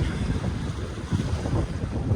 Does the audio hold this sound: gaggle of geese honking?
no